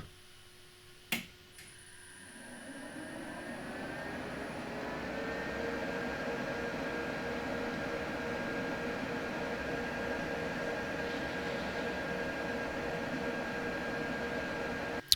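A relay clicks on a MeanWell TN-3000-24 inverter charging an LTO energy bank, then its cooling fans spin up into a steady airy whoosh with a faint high whine, continuing evenly.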